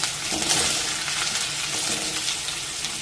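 Chunks of taro and potato tumble into hot oil in a cooking pan, setting off a loud, dense sizzle that holds steady from start to end with no talking.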